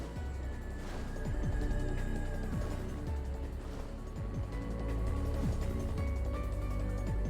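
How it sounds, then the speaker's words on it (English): Final Fantasy XIV raid music for the watery Bismarck fight: a full, steady orchestral track with a regular pulsing low beat and sustained tones, playing alone without speech. "Yeah, this is a good song."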